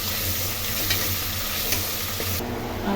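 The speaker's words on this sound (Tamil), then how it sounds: "பச்சை மிளகாவை நீல நீல வாக்கில் கட் பண்ணி போட்டுக்கோங்க வெங்காயம் நல்லா கொஞ்சம் வதவிட்டோங்க" Green chillies and onions sauté in a pan, a steady close sizzle with light stirring scrapes running throughout, no voices.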